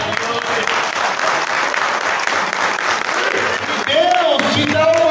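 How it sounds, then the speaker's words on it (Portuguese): Church congregation applauding during a worship service, a broad sustained clapping roar with a voice rising over it toward the end. "Você pode aplaudir a Jesus."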